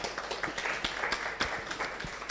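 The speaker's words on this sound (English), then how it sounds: "A clap for Maurice." An audience clapping at a live youth policy and governance dialogue, with sparse, irregular claps spread across the room, moderately loud and fairly close, with no voices over it.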